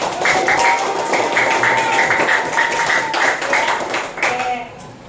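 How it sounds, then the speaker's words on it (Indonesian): Children in an elementary school classroom clap together in a quick, rhythmic pattern for several seconds, with young voices calling out over the steady hand claps. "Oke, tepuk tangan dong untuk"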